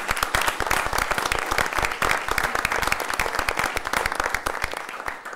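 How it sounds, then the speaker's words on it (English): Applause at a city council meeting, a dense, even patter of many hands clapping at once, sustained for several seconds at moderate level with no talk over it. "let's give them a round of applause for your service"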